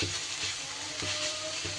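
Boiled thankuni greens stir-frying in a pan, a dense continuous sizzle with soft rhythmic stirring pulses, close and loud with no voices.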